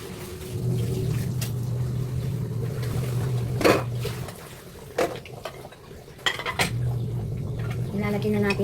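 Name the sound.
covering the cooking pot of beef caldereta with a lid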